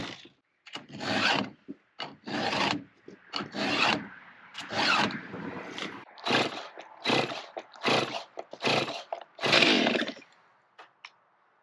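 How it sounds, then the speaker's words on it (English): A file rasps across a chainsaw chain, sharpening it in a steady series of short, evenly spaced strokes with brief pauses between, close and clear. "now we're kind of to the point where I can start sharpening"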